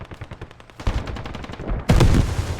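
Rapid automatic gunfire bursts rattle in the game Squad during an Abrams tank fight, with repeated close shots and a louder, heavier blast near the end.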